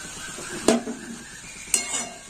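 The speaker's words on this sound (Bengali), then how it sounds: "এবার লঙ্কার হলুদ দিয়ে আমি কষে নেব" Green peas cooked with red chilli powder and turmeric sizzle softly at low heat, with two sharp clinks of a spoon against the pan a second apart.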